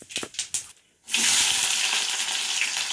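Mustard seeds dropped into hot oil for tempering, with a few light taps and rattles first, then a sudden, loud, steady hiss of sizzling oil that keeps going, close up and without talking.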